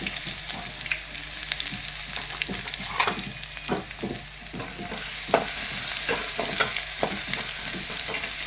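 Crushed garlic and cumin seeds fry in a hot pan with a steady close sizzle, while a utensil scrapes and stirs in repeated strokes throughout.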